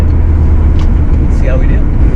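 A Ferrari 308 QV is driven around the block on a midwinter day. Its engine gives a loud, close, steady rumble under a person talking.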